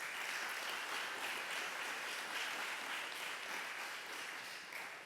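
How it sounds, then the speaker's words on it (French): An audience applauds at the opening ceremony of a parliamentary francophone assembly meeting, with dense, sustained clapping from a large crowd that holds steady and then tapers slightly at the end. "On mérite l'applaudissement aussi."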